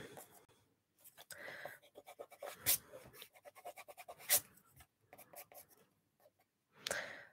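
A pencil writes on paper in an art journal, giving soft, close scratchy strokes in irregular bursts separated by brief pauses.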